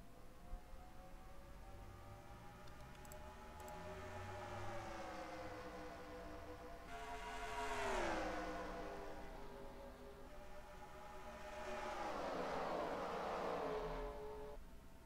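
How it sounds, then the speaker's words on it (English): Stock cars in NASCAR Racing 2003 ARCA race at Kentucky accelerating at the green flag, engine pitch sweeping upward and swelling loudly as the pack roars past in waves. "Lord Delano steps on the gas."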